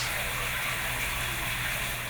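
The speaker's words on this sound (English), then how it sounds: "There's a great water feature here" Water runs steadily from an indoor water feature inside a converted water tower house in Huntington Beach, a quiet, even rushing flow with no break and no voices.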